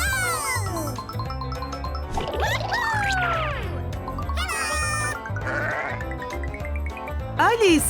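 Repeated bleating from goats, fairly close and loud, with voices and other background sounds mixed in throughout.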